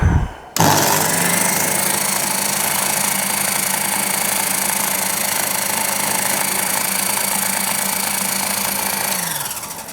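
A milling machine drills with a 6mm drill, a sustained high whine and motor drone, starting abruptly and holding even for several seconds before winding down.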